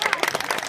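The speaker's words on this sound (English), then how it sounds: "Can we get a round of applause for Bailey?" A brief burst of applause from a group of guests at a wedding toast, quick overlapping claps that rise and fade within a moment.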